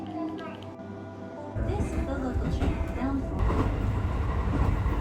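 A train rolls through a railway station in Kyoto, Japan, starting as a steady mechanical hum and then swelling into a louder, continuous rumble of wheels and carriages with no talk over it.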